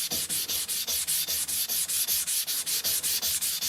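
Steady back-and-forth strokes of a knife bevel ground on a vitrified sintered diamond whetstone, a rhythmic gritty rasp repeating about five times per second, close and loud with no talk.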